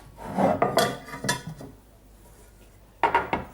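Onions, mushrooms and stock cubes are tipped into the bottom of a casserole dish with a few clattering scrapes and knocks, a short burst, a pause, then another burst.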